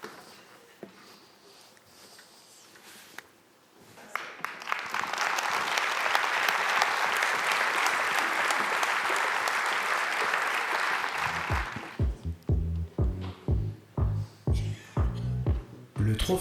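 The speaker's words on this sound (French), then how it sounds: "Ça mérite vos applaudissements" After some quiet talk, a large audience at an awards ceremony breaks into sustained, loud applause for several seconds, then it fades as a voice speaks again.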